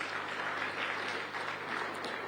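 Brief, steady audience applause for the Speaker of the House of Representatives at a counter-terrorism summit, a continuous patter of many hands clapping throughout.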